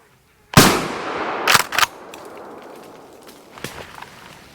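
A shotgun fires once at a squirrel during a public land hunt in Mississippi, a sharp loud close blast ringing out, followed by a couple of rustling crashes and light movement in the woods.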